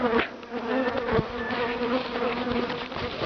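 Honeybees from a mother colony drone in a dense, steady buzz from the opened hive, close and continuous with individual bees flitting past the microphone.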